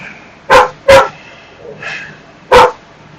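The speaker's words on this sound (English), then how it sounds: "Your dog's more barky at the new place, isn't he?" A pet dog gives three sharp, loud barks, two in quick succession and one after a pause, with a softer yip or whimper in between, heard close up indoors.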